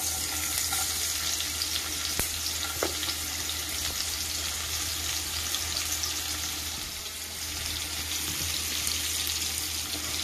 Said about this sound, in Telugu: ఉల్లిపాయలు వేస్తున్నానండి